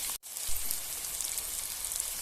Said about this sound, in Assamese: এতিয়া এইখিনি অকণমান সময় মই ফ্ৰাই হ'বলৈ দিম